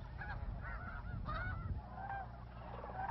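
A flock of geese honks repeatedly at Bosque del Apache refuge in New Mexico, overlapping calls rising and falling against a steady low rumble of wind or field noise, no voices.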